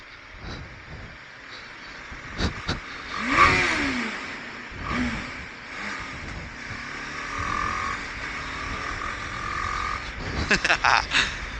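An auto-rickshaw engine revs in bursts on a road, with several rising and falling surges and a rapid sputtering run near the end, loud and close, alone without speech.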